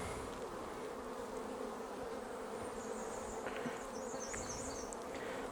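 Dense, continuous buzzing of honeybees at an opened beehive, with individual bees zipping past the microphone as short higher whines over the steady hum.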